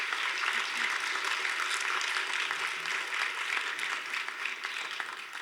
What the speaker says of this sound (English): Let's give Wendy one more round of applause.